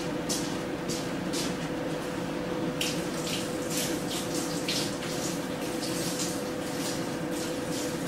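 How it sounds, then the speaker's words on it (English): A spoon being washed under a running kitchen tap, steady close gushing water with intermittent clinks and splashes as it is rinsed, no talking. "This spoon can be washed up."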